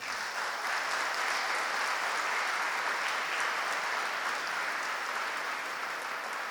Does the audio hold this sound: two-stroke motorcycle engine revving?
no